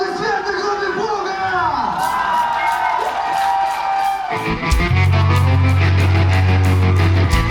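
A concert crowd at a rock show cheers, whoops and applauds for a band, a loud sustained roar of voices, with a low steady tone rising in beneath the noise near the end.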